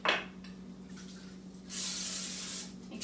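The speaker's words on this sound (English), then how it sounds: "we're going to take our 9x13 cake pan and we're going to spray it with some butter spray" Butter spray hisses from a can into a 9x13 cake pan in one steady burst of about a second, preceded by a short quieter puff, close and alone.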